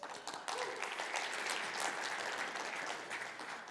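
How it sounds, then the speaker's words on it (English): Audience applause at a talk on raising capital, a brief burst of clapping heard faintly and at a distance, steady for a few seconds. "This is where you all clap."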